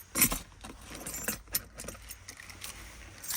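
Car keys jangle close by in a 2013 Ford Police Interceptor as a key goes into the ignition, a few bright metallic rattles over quiet cabin hum.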